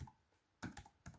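A few quiet keystrokes on a computer keyboard while a web address is typed, faint and brief, with two clustered taps near the end and no talking.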